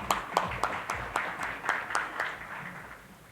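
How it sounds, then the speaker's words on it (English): Audience at a panel discussion on paper versus plastic packaging clapping for the panel members, sparse and uneven claps from a modest crowd, each sharp hit standing out, thinning toward the end. "Can we have a huge round of applause for all of them"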